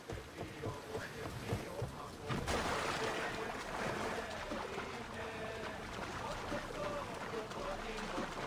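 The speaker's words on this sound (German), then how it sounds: "Dann fahren wir mit dem Schiff rüber." A sailing ship crossing open water in Assassin's Creed Odyssey, with steady wash of waves and wind throughout, a surge of water noise partway through, and a voice talking over it.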